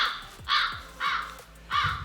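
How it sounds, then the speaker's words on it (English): A crow caw sound effect played from a TakStar SCM1 sound mixer: three loud, harsh caws evenly spaced about half a second apart, clear and alone with no talking. "We got the crow sound."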